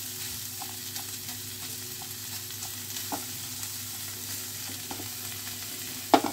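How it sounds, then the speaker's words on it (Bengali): Cauliflower, potato and water chestnut stir-fry in a home kitchen, a steady soft sizzle with light scraping stirs throughout and a louder clatter near the end, no voices. "এটাকে খুব ভালো করে নাড়াচাড়া করে নিতে হবে।"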